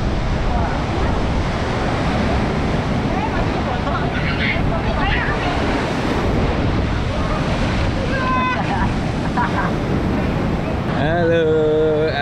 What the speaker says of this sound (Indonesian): tuh lagi di pantai